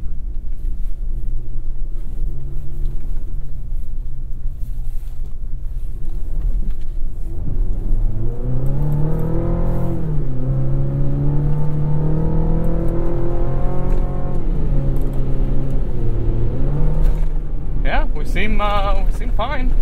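A 2024 GMC Canyon AT4X AEV pickup driving off-road in Baja mode, a steady engine rumble with rising and falling revs heard from inside the cab, with people talking over it.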